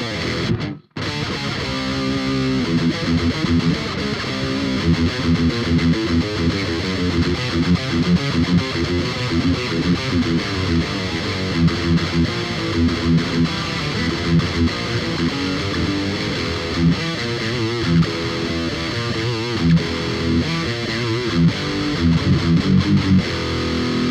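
Heavy, distorted electric guitar with a tone from a BOSS GT-1000 and Marshall Silver Jubilee chugs through driving metal riffs, loud and sustained, after a brief dropout at the start.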